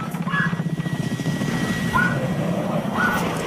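Video game helicopter thuds with a steady rapid rotor chop, close and continuous, with faint chirping game effects over it.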